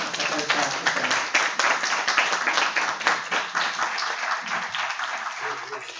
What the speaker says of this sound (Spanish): un fuerte aplauso pediría ahora mismo para Ana